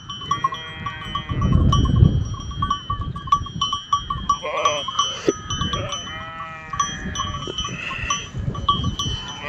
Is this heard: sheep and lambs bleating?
yes